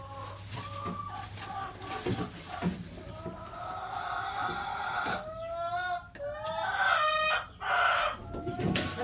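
Chickens at a rural Thai garden home cluck steadily nearby while a rooster crows several times toward the end, loud and close with no talking.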